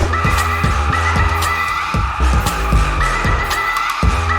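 In the Roblox Driving Empire racing game, a Falcon car's tires squeal as it skids under a loud, revving engine with rhythmic gear-like pulses, continuous and close, with no talking.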